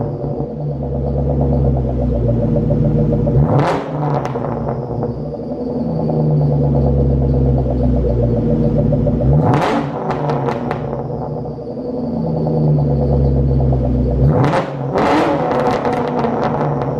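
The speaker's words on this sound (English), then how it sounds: "let's get some revs in." A warmed-up car engine with a newly completed exhaust idles with a low rumble, then revs sharply three times, each rev rising and dropping back to idle before the next.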